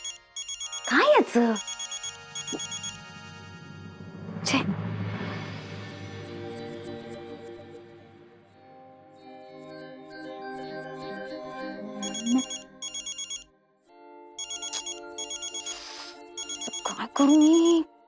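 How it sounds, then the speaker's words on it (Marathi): A telephone rings in a domestic drama scene, with repeated electronic ring bursts coming through clearly between and under people's conversation. "का फोन करतो मला हा?"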